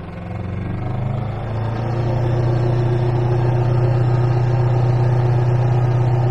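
An Aixam Mega van engine runs at full throttle, a loud, steady droning hum that swells slightly in the first seconds and then holds constant.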